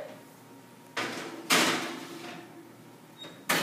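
Several sharp clunks and thuds of an oven door, an opening swing followed by a solid close, then another knock at the end, in a quiet room.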